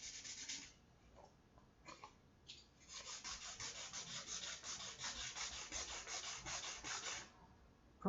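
Close, soft rasping of 1200 grit sandpaper rubbed by hand over varnish on a guitar body, with short strokes at first, then a long steady stretch of back-and-forth rubbing.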